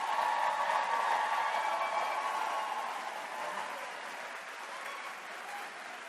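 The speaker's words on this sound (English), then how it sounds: "Let's give our family and friends a big round of applause." Graduation commencement audience applauding family and friends in a large hall, a broad, even wash of many hands clapping that gradually softens over several seconds.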